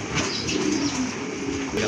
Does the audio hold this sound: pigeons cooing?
yes